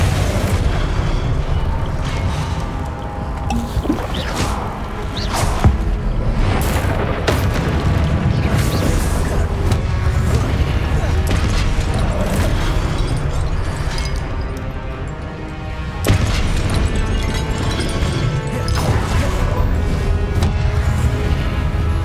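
Heavy fiery blasts of the Confringo spell in Hogwarts Legacy, booming again and again in a dense, loud barrage with a dull rumbling body, with no break for the whole stretch.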